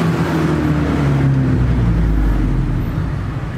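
Car fitted with a Race Chrome RCi Go Power five-inch sport muffler and the original manifold gives a smooth, deep, steady exhaust rumble at idle, loud and close, with no talking over it.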